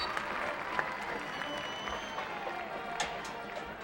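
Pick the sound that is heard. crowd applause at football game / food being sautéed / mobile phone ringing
crowd applause at football game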